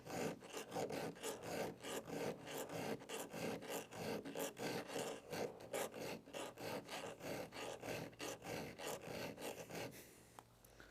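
A hand file rasps against a chainsaw chain tooth in a steady back-and-forth rhythm of about two strokes per second, close and fairly quiet, stopping just before the end.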